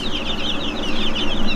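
Baby chicks on a farm peep continuously in a dense, high chorus of overlapping cheeps, close and fairly loud, with no talking.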